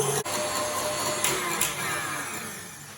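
An electric mixer whisks meringue for a chocolate summer fruit roulade, giving a steady loud whirring drone that runs unbroken, close up and alone, with a couple of faint knocks against the bowl.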